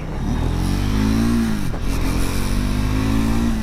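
The engine of a Triumph Scrambler 400 X motorcycle drones steadily and loudly up close on a test ride, with a brief dip in pitch as the rider eases off before it settles back to a constant hum.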